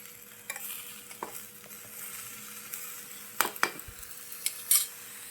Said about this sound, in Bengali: নুরায়ার সামাইটা কিন্তু ভাজা হয়ে গেছে